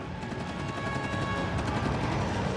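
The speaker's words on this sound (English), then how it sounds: "One of the rear gunners on the burning bomber opens fire and hits him a couple of times." Rapid machine-gun fire from the rear gunner of a burning Ju-88 bomber, a dense, continuous rattle of shots that stays loud and steady throughout, with no voices.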